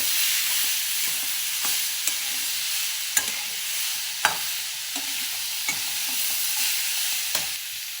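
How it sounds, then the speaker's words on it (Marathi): A spoon stirs boiled chickpeas through masala in a pan, giving a soft continuous sizzle with occasional light taps and scrapes against the metal, close and unhurried, with no voices. "परत हे चांगलं असं हलवून घ्यायचं"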